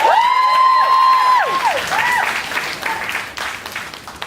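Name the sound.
audience clapping and cheering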